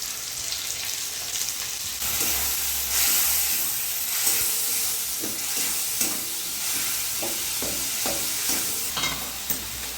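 Spice paste of chilli powder mixed with a little water is poured into a hot pan for Bengali-style aloo dum, hissing and sizzling loudly and continuously, with a few faint clinks and stirring sounds over the steady frying noise.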